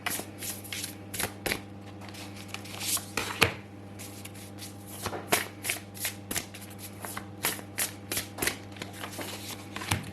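Tarot cards being shuffled, handled and laid out make soft riffling and sharp flicking snaps at irregular intervals over a faint, steady background hum, close and quiet with no talking.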